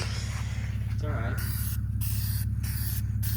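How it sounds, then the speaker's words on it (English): Spray paint hisses onto a truck outdoors in short bursts, a series of bright, close hissing blasts over a steady low hum, with a voice speaking briefly early on. "Spray painting your truck."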